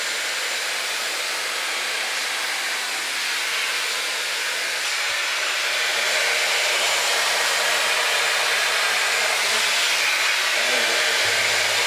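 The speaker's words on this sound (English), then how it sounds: "I'm gonna use my trusty Dyson Air Straight." A Dyson Airstrait hair straightener blows air in a steady, loud, broadband whoosh that runs unbroken for about twelve seconds, growing slightly stronger toward the end.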